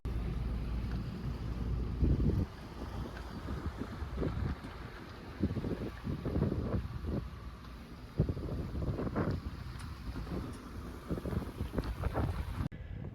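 Sailboat under engine motoring into a channel on a wet, windy passage to Cooktown, with steady motor drone buried under heavy, gusting wind buffeting the microphone and irregular thumps and splashes, no speech.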